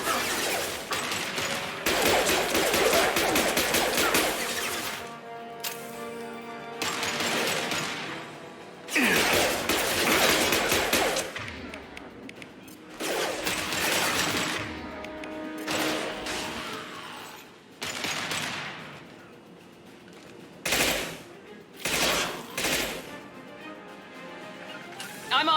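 Bursts of rapid automatic gunfire from the combat video game Mass Effect 2 on Insanity difficulty, loud and close, come in repeated volleys separated by short pauses, with mechanical clanks and whooshes between them.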